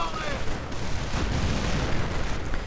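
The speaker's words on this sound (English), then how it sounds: "Sticky bomb going in on the Panther" Sticky bomb blowing up on a Panther tank in a World War II strategy game, a loud, rumbling blast that swells and lingers with battle noise, and a commentator talking over it.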